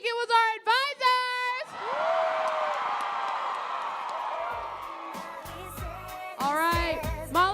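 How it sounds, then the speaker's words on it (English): After a brief spoken prompt, a big crowd at an FFA state leadership conference erupts into loud cheering and whooping for the advisors, holding a steady roar before talk resumes. "All right, let's hear it if you think it was"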